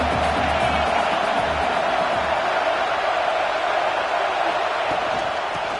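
A stadium crowd at a college football game involving the Buckeyes roars in a dense, sustained wash of cheering noise, loud and steady throughout.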